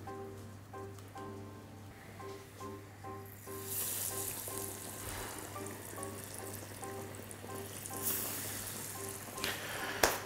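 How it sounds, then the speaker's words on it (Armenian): Stuffed potatoes frying in hot oil give a steady close sizzle with crackling bursts, over a constant low mains hum and faint tonal beeps, without any talk. "Որից հետո տապակում ենք։"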